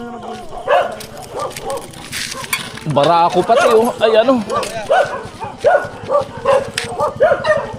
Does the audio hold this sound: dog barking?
yes